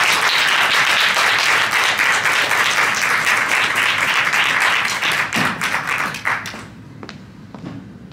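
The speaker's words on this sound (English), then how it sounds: "Give her a big round of applause, everybody." A college audience applauds a performer at an evening show, with dense sustained clapping that thins into scattered claps and fades near the end.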